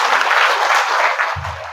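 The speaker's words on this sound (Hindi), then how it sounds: "अब जब मैं बोलूंगी 1, तो 1 पे सब ताली बजाएंगे।" A class group of mothers claps together on cue, producing a loud burst of applause-like clapping that fades out, followed by a low thud at the end.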